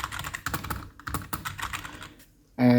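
Fingers type quickly on a Shivox G500C membrane keyboard, part of a gaming kit, producing a close, dense run of soft, irregular key clatter that ends in a brief, louder tonal burst.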